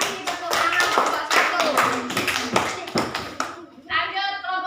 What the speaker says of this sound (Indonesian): Kasih tepuk tangan kelompok